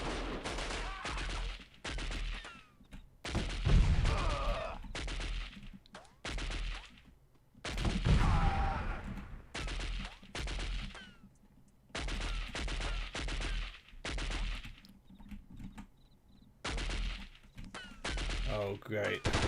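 Bursts of game gunfire and grenade blasts in the 1998 shooter Delta Force, with sharp volleys repeating in clusters and heavy low-end booms around the middle, broken by brief pauses.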